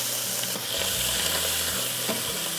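Mushrooms hit a hot pan beside seared paua and sizzle loudly, a steady close crackling hiss with faint scraping of a utensil, no voices.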